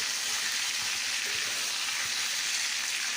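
Potatoes and pointed gourd fry in a pan with tomato, giving a steady, dense sizzle that stays loud and unbroken throughout, with no talking.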